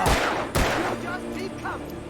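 Two sharp, loud gunshots in the video game Alan Wake, about half a second apart, each with a booming tail, followed by fainter rumble and voice-like sounds.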